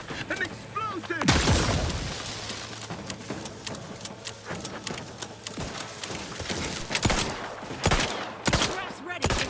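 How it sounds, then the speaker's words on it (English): Gunfire and explosions from combat in the video game The Outer Worlds 2 come as loud, sharp bursts in rapid succession, with a voice calling out briefly amid the chaos. "An explosion!"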